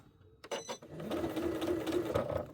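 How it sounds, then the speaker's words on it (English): A sewing machine running a back stitch at reduced speed in a floating studio, a short burst of rapid mechanical whirring and needle clatter after a brief click, close and clear with no talking. "I'm going to turn my speed down so I don't get too heavy on the old foot. And I'm going to do a back stitch there"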